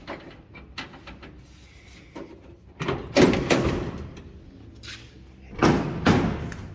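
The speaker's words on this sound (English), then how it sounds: "See if I can get this door open one-handed because it's kind of a screwed up process here." The door of a 1969 Dodge D100 Adventurer pickup is worked open with heavy thuds, rattles and metallic clunks that grow louder and come in bursts up close.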